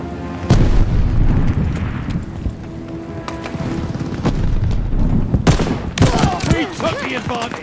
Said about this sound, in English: Stopping grenade!